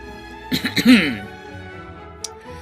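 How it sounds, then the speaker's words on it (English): A quick burst of three or four harsh coughs, close and loud, then a quiet room with a faint click. "Sorry about the cough."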